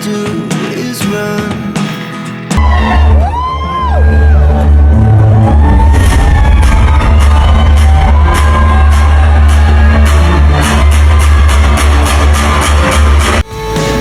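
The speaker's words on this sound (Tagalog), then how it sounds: "super hiyawan ang mga tao na naroon" A crowd at the Buds Best You Ever 2024 stage event screams and cheers loudly and continuously as a performer emerges from backstage, a dense roar with high whoops over thumping music; brief talk and music open it first.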